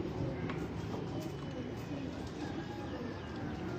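Pigeons cooing on a rooftop: soft, low repeated coos from several birds close by over constant outdoor background noise, with faint chirps and distant voices.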